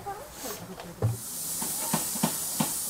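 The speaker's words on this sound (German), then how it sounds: "die Maxima von John Fowler aus dem Jahr 1924" A 1924 John Fowler Maxima steam traction engine gives a steady hiss of escaping steam, broken by several short sharp puffs near the end. Faint talk sits underneath.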